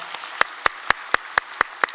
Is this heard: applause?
yes